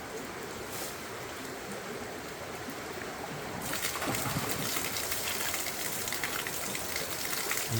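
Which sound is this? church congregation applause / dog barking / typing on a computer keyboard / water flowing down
water flowing down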